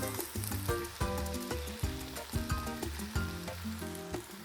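Celery sizzling as it fries in a pan for a seafood sauté, with steady crackling throughout and a series of deeper clunks and rhythmic thuds, likely stirring or chopping, carrying on without any talk.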